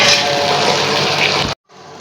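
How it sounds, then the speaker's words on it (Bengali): Water gushes loudly and steadily into a cooking pan holding banana peels, then cuts off abruptly, leaving quieter room noise. "একটু পানি দিলাম"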